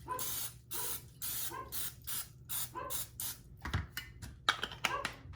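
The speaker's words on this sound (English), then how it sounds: "even though they're silicone, I still give them a spray because these do tend to stick" Cooking spray hisses onto silicone egg bite molds in a run of short, close bursts, each a sharp aerosol spritz separated by brief pauses, ending with a few clicks and taps.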